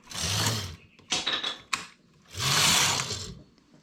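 A knitting machine carriage, waxed with candle, runs at tension setting 6 in two long sweeping passes with mechanical clicks and clatter between them, close and fairly loud with no talking.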